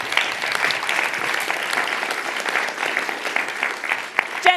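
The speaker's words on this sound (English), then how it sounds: "Round of applause." Audience applause at an education seminar student showcase, steady dense clapping from a roomful of people throughout, fairly loud and continuous with a slight dip near the end.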